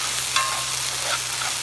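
Smothered okra with sausage cooks down in a pot, a continuous, even sizzle and bubbling heard up close with no one talking.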